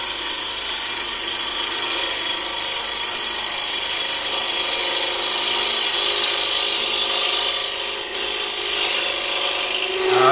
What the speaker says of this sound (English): And this was all with a standard grind bowl gouge.